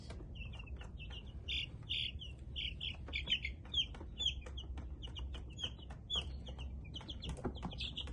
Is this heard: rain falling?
no